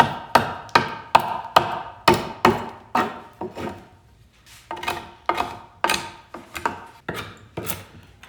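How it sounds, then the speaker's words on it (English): Hand chisel scoring wood edges, a rapid series of sharp knocks and scrapes, steady at first then slightly softer, close and alone. "I've got my hand chisel, knife, blade thingy here that I'm going to use to score the edges a little bit."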